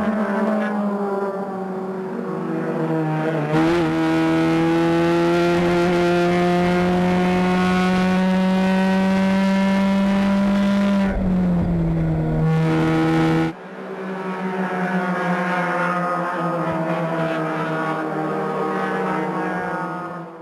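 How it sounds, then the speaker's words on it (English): Loud, sustained Mazda MX-5 Cup race car engines roar at high revs during a race at Salt Lake City, with steady harmonic tones shifting as cars pass and change gear, one engine cutting out briefly midway. "Love the sound of these motors in these Playboy Mazda MX5 Cup race cars."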